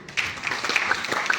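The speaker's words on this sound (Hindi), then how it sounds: "नहीं जानते तो भी तालियां होनी चाहिए।" Audience at a motivational wellness seminar clapping together, a dense, fairly loud burst of hand claps that carries on evenly throughout.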